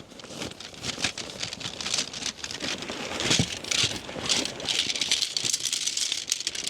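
A bag of aluminum tent poles for a Snow Peak Amenity Dome M tent is handled close by, giving a busy, continuous metallic rattling and clinking with no talking.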